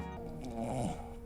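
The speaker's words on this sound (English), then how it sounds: "she started snoring" A woman snoring while asleep in a television drama scene, with a steady, low rumbling breath that runs through the whole moment without any talk.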